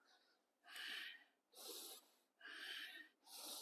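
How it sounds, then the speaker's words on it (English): Four rhythmic nasal breaths during a men's breathing fitness class, each a broad hissing rush through the nostrils of about half a second, evenly spaced with short quiet gaps, close and fairly loud. "Breathing in forward, breathing out back through the nostrils."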